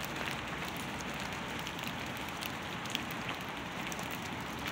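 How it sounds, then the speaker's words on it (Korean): Steady rain falls outdoors where stray cats wait, a dense, even hiss of drops pattering on surfaces with no voices and no break across the whole stretch. "용감아 비 빨리 피해라"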